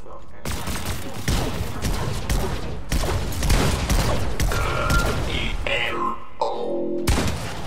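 Gunfire in the video game Fortnite crackles in dense bursts with booming impacts, mixed with game effects and a person speaking over it.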